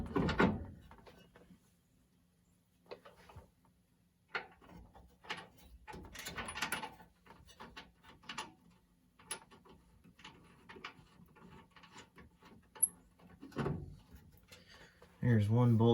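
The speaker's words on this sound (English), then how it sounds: "And we'll get our carrier bolted back up now." Mechanical clanks, ratcheting and metal knocks from bolting the transmission carrier back up on a 1956 Dodge H6 truck, scattered irregular bursts close by in a quiet shop, ending with a louder burst.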